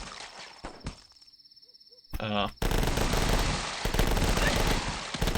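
Gunfire in the video game The Last Stand: a short faint rattle, then a loud sustained burst of rapid automatic shots running to the end, dense and close with no talking.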